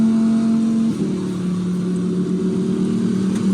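A Lamborghini Huracan Evo's engine drones steadily from inside the car while driving, its tone shifting once early on and holding a constant, fairly loud hum with no talking.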